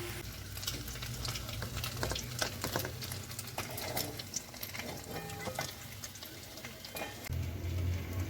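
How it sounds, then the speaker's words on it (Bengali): Paneer pieces frying in oil in a home kitchen, a continuous close crackling sizzle with sharp spitting pops throughout, plus a low rumble joining near the end. "এবার এগুলোকে তুলে নেব আর বাকিগুলো ভেজে নেব।"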